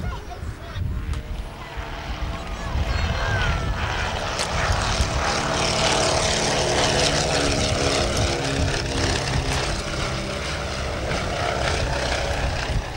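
Dutch-designed pocket tri-motor propeller aeroplane flying at an air show, its engine drone swelling as it approaches and holding loud and steady overhead, with faint crowd noise beneath.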